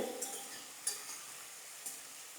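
Masala with ground cumin being stirred and fried in a pan for katla fish head muri ghonto, a soft sizzle under a few light scrapes of a spoon, fairly faint and steady.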